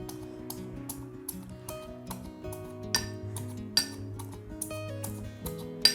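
An iron pestle strikes urad dal flour in an iron mortar with steady metallic clinks and thuds, close and moderately loud, about two strikes per second, while background music plays underneath.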